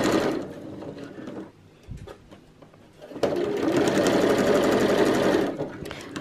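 Sewing machine stitching bias tape onto a Christmas tree skirt, a loud close whirring run, a pause with small clicks, then a second longer steady burst.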